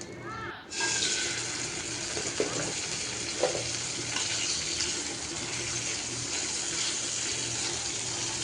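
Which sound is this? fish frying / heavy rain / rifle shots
fish frying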